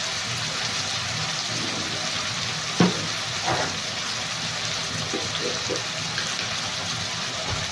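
Oil and ghee sizzle loudly in a pan for biryani, a dense, steady hiss broken by a few brief clinks and stirring knocks.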